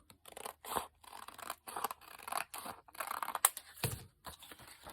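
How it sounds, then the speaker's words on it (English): Scissors cutting paper to size for an autumn junk journal, a quiet, close series of short crisp snips and rustles with brief pauses between cuts. "I'm going to cut it down a little bit to size."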